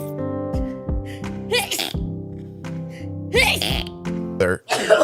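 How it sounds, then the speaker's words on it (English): A person sneezes amid breathy, halting speech indoors: short gasping intakes and voiced sounds build up, then a sharp, forceful sneeze bursts out close to the microphone, with more talking around it. "I need to sneeze"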